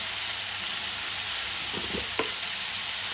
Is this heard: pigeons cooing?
no